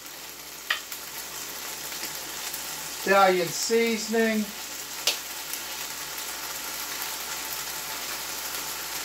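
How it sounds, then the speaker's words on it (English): Minced garlic sizzles steadily in a frying pan while being stirred for shirataki spaghetti and meatballs, a continuous close hiss with a few light clinks and a brief spoken voice over it. "There's that sizzle."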